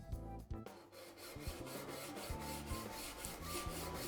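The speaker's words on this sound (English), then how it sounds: "There are different ways of marking the hole, but today I'm using a saw." A hand saw cuts an outlet hole in a roof gutter, its rasping strokes coming in a steady back-and-forth rhythm, close and continuous, with no talk over it.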